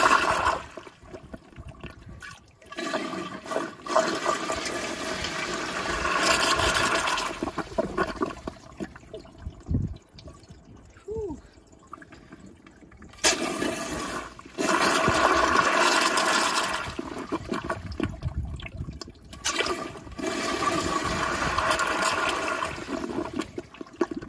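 A Toto CT705 toilet flushes on a piston flushometer, loud rushing water surging in long bursts, easing to trickling refill between flushes, close and with no talk.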